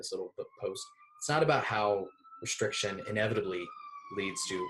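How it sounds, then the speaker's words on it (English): A siren wails faintly outside in the Bay Area as a steady high tone that drifts slightly, running underneath a person talking indoors. "that was a siren going by"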